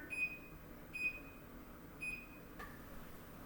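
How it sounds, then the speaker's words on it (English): Kitchen timer being set while carrot muffins bake, giving three short high electronic beeps about a second apart, clear over a quiet room, with no talk. "I'll make sure I set my timer."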